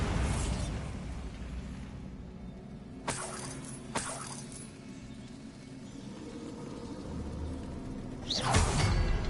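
Bombarda blasting spell in Hogwarts Legacy, a sharp bursting crack with debris shattering, followed by smaller pops and a louder rumbling blast near the end over a steady game ambience.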